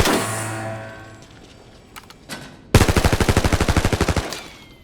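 SMG fire in the video game Arena Breakout: Infinite, a loud rapid burst of evenly spaced shots lasting over a second, after a few faint clicks and handling sounds.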